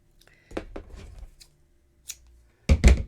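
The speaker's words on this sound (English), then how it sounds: "And we'll cut our yarn." Yarn from a crochet dog bandana project snipped with scissors: a few short, close cutting sounds in two bursts with quiet handling noise between them and no speech.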